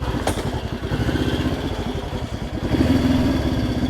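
A Honda CL77 Scrambler motorcycle engine running at a rough, uneven idle with a loose mechanical clatter, close and loud, lifting slightly in revs near the end.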